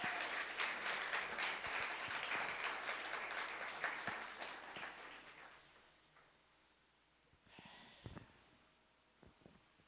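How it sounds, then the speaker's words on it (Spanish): A church congregation applauds loudly for several seconds, the clapping tapering off and fading, followed by quiet room noise and a few small knocks. "Denle un fuerte aplauso al Señor por ello."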